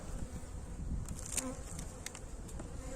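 Agitated honey bees buzz steadily and close at an opened hive in January winter, a dense continuous drone with occasional sharper individual wingbeat tones passing near.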